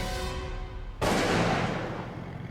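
Shotgun fired into the air to scare off a tiger, a single sharp blast that stops a steady rumble and rings out loud, decaying over about a second and a half, with no tiger roar audible.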